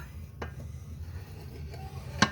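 A knife cuts cornbread into wedges in a cast iron pan, giving a few scraping clinks of metal on iron with a sharper knock near the end over quiet background.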